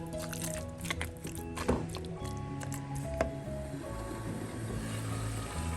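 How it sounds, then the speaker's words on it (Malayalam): Chicken curry with masala is stirred in a pan, giving a continuous wet squelching and sizzling with soft scrapes and splats, close and fairly quiet. "മസാല പിടിക്കുന്നത് വരെ ഇളക്കി കൊടുക്കാം"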